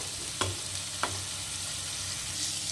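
Prawns fry in a spice masala with a constant close sizzle. Two distinct scrapes of a spatula stirring against the pan stand out early on.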